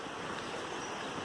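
A flowing river along the Appalachian Trail makes a brief, steady rush of water, close and fairly loud, with no voices.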